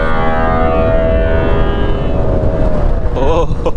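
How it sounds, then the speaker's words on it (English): Ola S1 Pro electric scooter in Bolt mode gives a loud, steady rising whine like a rocket launch, building through the whole stretch with a brief wobbling sweep near the end. "So this feels like a rocket launch kind of a sound."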